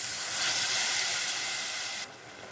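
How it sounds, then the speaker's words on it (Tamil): A loud, steady hiss and sizzle of water hitting a hot pan of spiced cauliflower and potato gravy, lasting about two seconds before dropping off abruptly to a softer simmer. "கொஞ்சம் தண்ணி சேர்த்துக்கலாம்"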